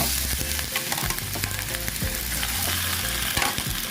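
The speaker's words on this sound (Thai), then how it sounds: "อันนี้เราจะคั่วเต้าหู้แล้วก็ไข่ พร้อมกันเลยนะคะ" Tofu and egg stir-fried together in a pan, a loud continuous sizzle broken by scraping stirs of a utensil, close and alone without any talk.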